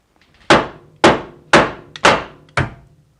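A hammer whacks a BMW E46 front lower control arm five times in a steady rhythm, each blow a sharp, close metallic-wooden thunk with a quick decay, with no talking between strikes.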